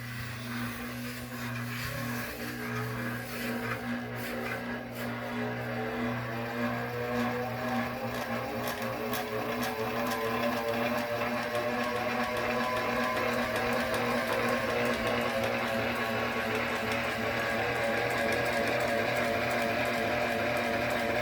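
A rare gear-driven ceiling fan with a wearing motor starting up and running, a steady mechanical whirring hum with rising tones as it spins up, close and continuous with no talk.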